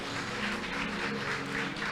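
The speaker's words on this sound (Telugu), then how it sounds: "గట్టిగా చప్పట్లు కొడదాం." A church congregation at a Sunday service claps together in a dense, sustained burst of applause that stays level throughout, filling the hall with no voices on top.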